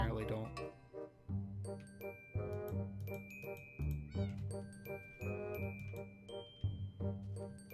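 Tamed cat in the Minecraft video game, meowing repeatedly in short, close, clearly pitched calls over a steady background of game music and chiming tones.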